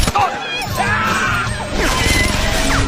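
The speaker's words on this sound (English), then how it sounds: "an 18-wheeler came barreling through and smashed the convoy apart" An 18-wheeler truck barrels into and smashes a convoy, a loud sustained crashing and grinding din with metallic impacts under dramatic narration.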